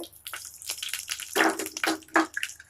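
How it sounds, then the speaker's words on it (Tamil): Mustard seeds sizzling in hot oil for tempering, with close, crackling bursts and sharp pops coming in irregular surges over a hissing background. "இப்போ நம்ம தாளிச்சிடலாம். தாளிக்கிறதுக்கு கொஞ்சம் கடுகு,"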